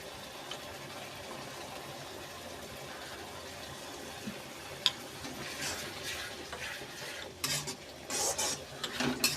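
A spoon stirs a ground spice paste mixture in a pan for a spinach chicken dish, giving a steady soft scraping with a faint sizzle and a few sharper clinks of utensil on metal toward the end.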